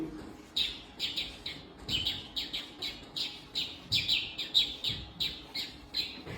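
A sparrow calls with a rapid series of sharp, high chirps repeated at a quick, fairly regular pace, moderately near over a quiet outdoor background.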